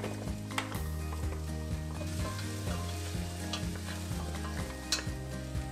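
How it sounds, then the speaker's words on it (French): Potimarron squash sautéing in hot olive oil in a stewpot over medium heat, a steady close sizzle with stirring scrapes and light pot clinks, alongside a recurring low tonal hum. "Une fois chaude, on y fait revenir notre potimarron 3 minutes."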